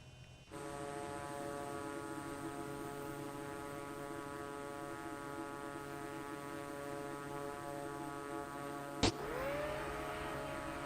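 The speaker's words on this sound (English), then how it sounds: "Just some plane's audio is freaking out." An airplane engine in Microsoft Flight Simulator 2024 on PS5 glitches into a steady, layered tonal drone with a faint hum, broken near the end by a sharp click before the drone carries on.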